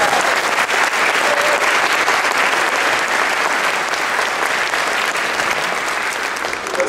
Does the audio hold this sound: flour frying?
no